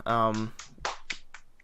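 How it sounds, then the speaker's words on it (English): A few sharp hand claps or snaps follow a short burst of speech, quick and close, fading into quiet. "Did you just clap?"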